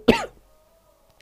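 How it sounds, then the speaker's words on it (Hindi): A single sharp cough bursts out close and loud, followed by a brief rasp and fading into near silence. "आज खांसी बहुत आ रही है"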